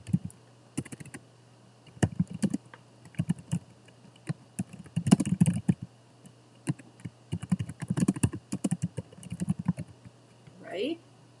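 Computer keyboard keys typed in short irregular bursts during work in an Excel spreadsheet, close and fairly quiet over a steady low hum, with brief pauses between runs of keystrokes.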